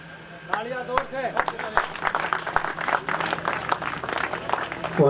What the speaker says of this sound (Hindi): तालियां जोर से।